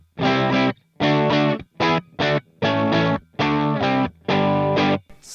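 Bright, heavily distorted electric guitar through a Joyo Jackman distortion pedal playing sustained chords in seven bursts with short gaps, loud and up close, no voices.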